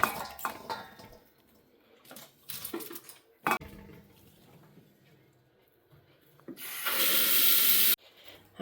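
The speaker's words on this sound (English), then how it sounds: "I'm going to keep on washing beans" Freshly harvested beans being washed under a running kitchen tap give off scattered clattering handling noises, then a loud, steady rush of running water for about a second before it stops.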